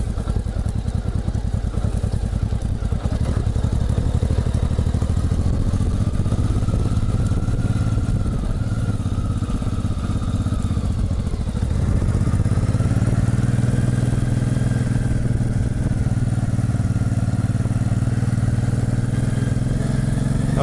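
Honda motorcycle with a sidecar rolling along an uneven, sloping road, its engine running as a steady, close mid-pitched drone that holds for the whole stretch with slight shifts in tone and no talking.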